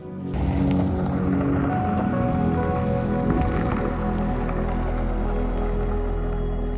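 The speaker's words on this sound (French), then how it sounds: "il y a beaucoup de vent actuellement" A loud, constant rush of wind roars against the microphone in the Bardenas desert, a dense low rumble that never lets up.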